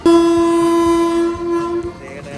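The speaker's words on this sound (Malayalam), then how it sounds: "ട്രെയിൻ വിസിലടിക്കുക" A loud, sustained Indian train horn blares close by, holding one steady tone before tapering off, with rail rumble underneath.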